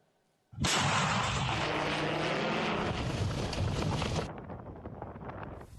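A sudden roar of artillery fire and explosions on the Bakhmut front bursts in, sustained and rumbling, then thins into crackling, echoing blasts.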